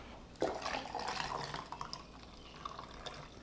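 Cold water splashes and trickles into a pitcher of strawberry lemonade, a soft pouring sound with light clinks, fairly quiet and close.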